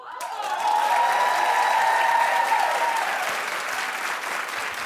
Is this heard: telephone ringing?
no